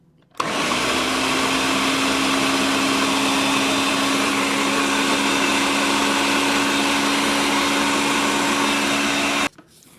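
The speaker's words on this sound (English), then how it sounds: "We're going to blend on high for the entire duration." An expensive high-powered blender runs on high, blending tomato soup with zucchini in a home kitchen. It gives a loud, steady, unbroken whir for about nine seconds, starting and stopping abruptly, with no talking.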